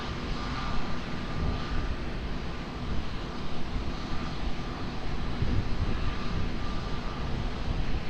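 An airplane lands at Lisbon Airport with a broad, steady engine roar that swells slightly over the seconds, heard from a distance with a constant rumbling background.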